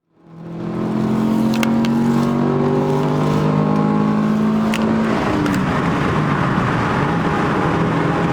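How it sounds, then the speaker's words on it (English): Honda Del Sol engine with VTEC revs hard and climbs in pitch, a loud sustained rising roar close by, continuing strong through the end with no talk. "It was at this moment that my camera experienced VTEC kicking in."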